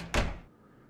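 A single solid thunk of a door in an industrial paint room at a factory, a short loud knock that quickly fades into quiet room tone.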